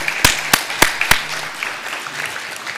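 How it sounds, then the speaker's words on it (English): At a high school honor graduate assembly, four sharp, close claps ring out in quick succession, then give way to sparse, softer scattered clapping that trails off. "Let's give one more final round of applause for the honor graduates and all of the seniors."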